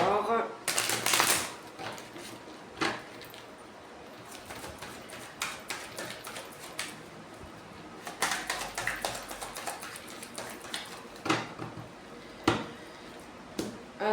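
Oracle cards riffle and flick in a few brisk bursts of papery snapping, close and fairly quiet, with soft taps between shuffles and a voice speaking at times.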